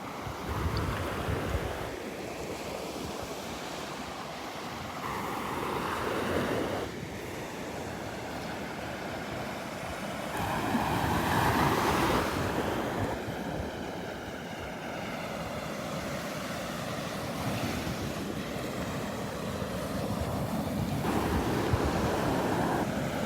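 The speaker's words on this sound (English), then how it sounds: "There's a couple nice little waves rolling in." Small waves roll onto the sand at Vanderbilt Beach on a morning walk, breaking in gentle surges every few seconds over steady wind buffeting the microphone.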